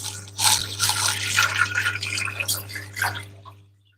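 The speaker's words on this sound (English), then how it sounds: "I've done a full jug drip for a couple of hours" Water from a jug drip line for acclimating shrimp splashes and trickles into a container, a busy, close stream of droplets over a steady low electrical hum that fades out at the end.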